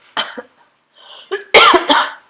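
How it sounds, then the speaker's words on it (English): Several harsh coughs, close and loud, with a brief throat-clearing sound earlier; no talking. "I've still got a cough"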